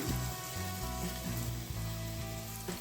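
Thick-chopped ginger and garlic sizzle steadily in a couple of spoons of hot coconut oil, a close, continuous frying hiss with brief stirring bumps, no voices.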